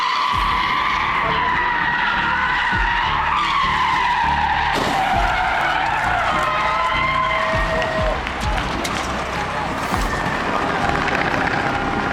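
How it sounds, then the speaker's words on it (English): A car skids out of control with loud, sustained tire squeal and screeching that wavers in pitch over a dense wash of traffic noise, heard up close and continuing for several seconds. "a car lost control"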